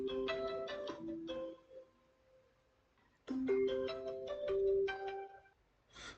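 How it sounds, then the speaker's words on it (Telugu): A melodic phone ringtone from an incoming call plays alone in two bursts of repeating chiming tones, a pause of near-silence between them, fairly clear and close. "చిన్న కాల్ వచ్చింది"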